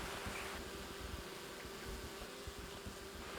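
A honey bee buzzing close by, caught inside a beekeeper's jacket near hives, a faint continuous drone with a muffled rustling background.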